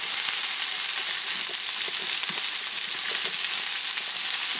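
Cabbage browning in a pan for a casserole, a continuous loud hiss of frying with faint scattered crackles and stirring, no voices.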